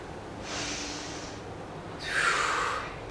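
Heavy breathing during a home workout exercise: two close, forceful breaths, a softer rush of air followed a second later by a louder, harsher snorting exhale.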